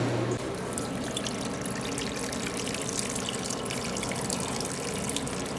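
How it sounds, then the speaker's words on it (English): Water is poured into a supermarket refrigeration condensate drain, producing a steady, close splashing and trickling flow that continues unbroken throughout. "Let's pour some more water up there."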